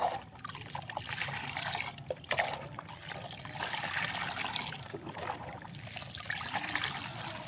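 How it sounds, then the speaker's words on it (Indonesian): Three detergent solutions being combined and stirred until even, for treating pest-infested banana trees: a faint, continuous liquid swirl and trickle with no voices. "baru ketiga larutan ini kita gabung, kita kudak ya sampai rata."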